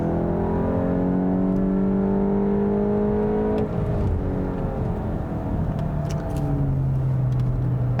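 A 2022 Volkswagen GTI engine revs steadily with rising and falling whine, loud and close, shifting pitch midway as it changes gear, no voices.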